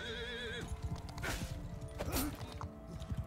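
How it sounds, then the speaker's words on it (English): A horse whinnies loudly in a Viking battle video game, followed by clattering hooves, thuds and creaks of movement close by. "Whoops, I didn't mean to hit your horse."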